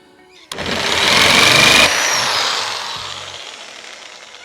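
Power drill fitted with a metal bit boring into wood: a loud whirring burst starts abruptly, grinds steadily for over a second as the bit cuts, then winds down with a fading spin and a brief low knock near the end.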